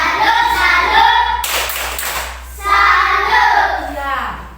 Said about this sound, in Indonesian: Tepuk tangan dulu Intan.